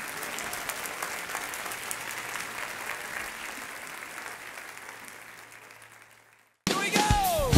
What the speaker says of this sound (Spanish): Un aplauso bien grande al Señor.